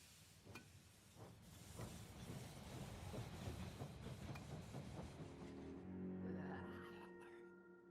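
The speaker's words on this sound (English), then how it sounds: "The train has arrived at the station." In the zombie strategy game They Are Billions, a train pulls into a station with a rolling rumble and rhythmic clacking of wheels, steady and fairly quiet, easing off to a hissing, ringing stop at the end.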